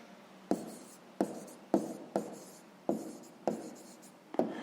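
Pen writing out a sixth-grade math answer on paper, six or seven short scratchy strokes in a steady rhythm, each starting with a sharp tap and fading, close and quiet with no talk.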